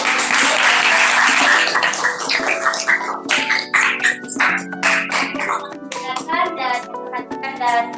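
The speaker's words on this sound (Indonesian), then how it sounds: "Beri aplaus untuk kelompok." Classroom applause for a student group of chemistry undergraduates after their presentation, a loud burst of many hands clapping that thins out over several seconds as children's voices chatter over it.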